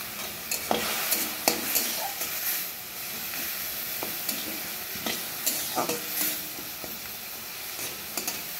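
Raisins and nuts stirred into pineapple chutney in a hot pan, a continuous close sizzle with repeated scraping and stirring strokes of a spoon.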